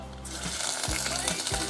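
Chicken fat hits a hot pot and bursts into a loud, steady sizzle that keeps crackling, with a few low knocks underneath, while chicken oil is made.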